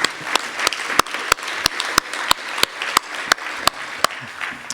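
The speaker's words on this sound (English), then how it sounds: "Okay, you can start clapping now." A conference audience breaks into applause, a dense steady wash of many hands clapping, with sharp individual claps standing out near the microphone.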